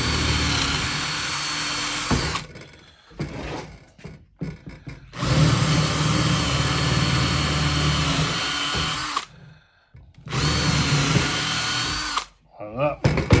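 A power drill whirs loudly in several bursts, boring an 8.5 mm hole, stopping and restarting with short silent gaps between runs, with a few faint voices in the background.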